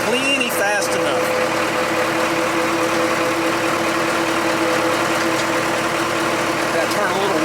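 A Leeboy 685 motor grader's engine runs steadily at close range through a test drive, a constant loud mechanical drone with a steady low hum and no breaks.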